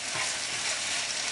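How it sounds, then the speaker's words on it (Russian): Chicken breast frying in a pot on the stove, a steady close sizzle with a bright hiss running continuously and no talk over it. "И тут уже у меня курочка 10 минут обжаривается."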